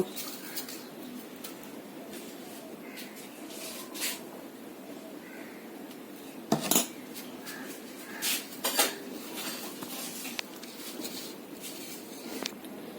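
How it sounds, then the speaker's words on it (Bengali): Eggs being mixed with turmeric and salt in a dish, rendered as scattered clinks and scrapes of utensil against the dish at close range, with a few sharper knocks midway and faint bird calls in the background. "ডিমে এখন আমি হলুদ নুন মেখে নেব"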